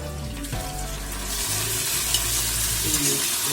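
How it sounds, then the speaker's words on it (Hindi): Loud, continuous sizzling and crackling of tempering spices hitting hot oil for a large communal bhandara meal, with a low hum and some clattering underneath. "अब जा रहा है इसमें तड़का"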